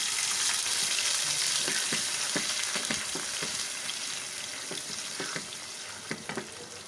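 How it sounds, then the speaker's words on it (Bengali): Onions sizzle in a hot pan for a egg korma curry, a steady broadband frying hiss with scattered crackles and a few scraping stir clicks, easing slightly toward the end. "আমি এখানে একটু পেঁয়াজটা লাল করে ভেজে নিচ্ছি।"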